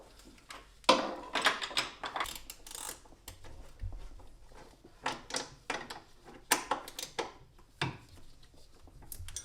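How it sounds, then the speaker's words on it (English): Two 16 mm wrenches tighten the control arm bolts on an Audi B5 S4, giving irregular metallic clicks, scrapes and ratcheting knocks, loud and close, with brief pauses between turns and no talking. "we'll grab our two 16 mil wrenches and then just crank this so that it's nice and tight"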